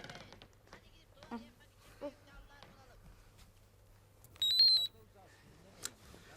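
A single short, high electronic beep from a mobile phone receiving a message sounds once amid quiet, sparse talking.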